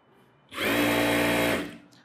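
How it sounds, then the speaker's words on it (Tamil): A sewing machine runs a quick rough stitch along the center of a net blouse, a loud steady whirring burst of about one second that starts and stops abruptly. "சென்டரில் வந்து சும்மா ரஃப்பாக ஒரு தையல் போடுறேன்."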